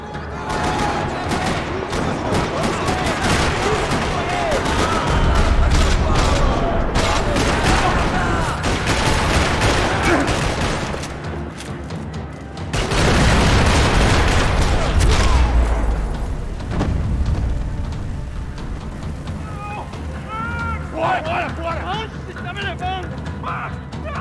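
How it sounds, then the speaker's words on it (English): Rapid bursts of Max Payne 3 gunfire rattle loudly and continuously through a parking lot, with heavy booms and a voice talking over parts of the barrage. "Another parking lot rattling with gunfire."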